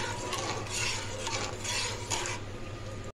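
Veg pulao mixture being stirred with salt in a pot makes a continuous sizzle with repeated scraping strokes of a spoon against the metal, close up and unbroken by voices.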